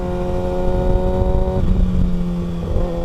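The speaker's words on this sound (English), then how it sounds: "We're fueled up, tyres pumped up, ready to roll." A motorcycle pulls away and revs, its engine note rising then shifting pitch around halfway, close and loud, no voices.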